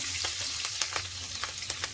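Green chilies with whole cumin, cinnamon, cardamom and cloves sizzle steadily in hot oil, a dense continuous crackle broken by a few sharp pops, heard close and without voices.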